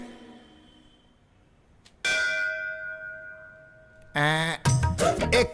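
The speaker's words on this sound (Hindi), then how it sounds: "घंटी की आवाज आ रही है ना?" A temple bell rings out clearly with a long ringing decay, then rapid clanging strikes follow, loud and close.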